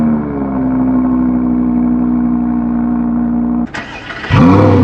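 A car with a new aftermarket exhaust idles and drones steadily and loudly up close, then briefly blips and revs near the end, with no voices.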